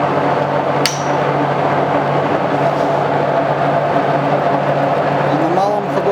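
A milling machine cutting an aluminium cylinder head runs as a loud, steady mechanical drone with a constant low hum, broken by one sharp tick near the start.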